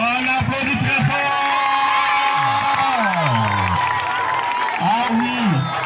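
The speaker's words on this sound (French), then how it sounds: "On applaudit très fort." A school welcoming ceremony for new pupils, where the audience's applause and cheering surge loudly, with children shouting and whooping over a dense crowd roar and voices speaking over it throughout.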